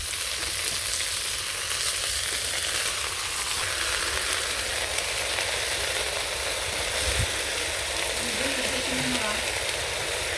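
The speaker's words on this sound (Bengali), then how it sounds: "একটু ভেজে নিয়ে শাকগুলো দিয়ে দেবো।" Leafy greens and vegetables frying in a pan in a village kitchen, a constant dense sizzle running throughout with a low background hum.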